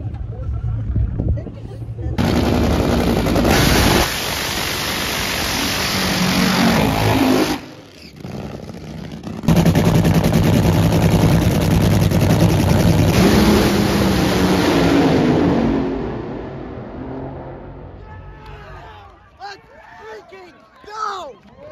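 Drag racing cars at the Texas Motorplex roar past in two long, thunderous bursts with a brief drop between them before fading out. An announcer talks excitedly over the noise.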